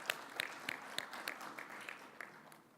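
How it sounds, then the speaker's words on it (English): Conference audience applauding a European Commissioner at a renewable energy summit, a dense wash of many hands with a few sharper nearby claps standing out, steady for a few seconds then thinning. "Let's give a round of applause to Commissioner Cañete."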